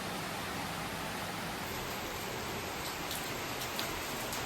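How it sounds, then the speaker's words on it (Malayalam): Steady rain falls outdoors as an even, unbroken hiss, with a few faint drips and taps standing out in the second half. "മഴയാണ് ഗായ്സ്."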